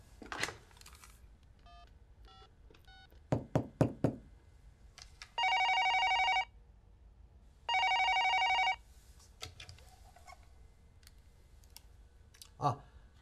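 A telephone in an office rings in two long electronic bursts, loud and clear, after a few clicks of dialing, with a faint voice at the very end.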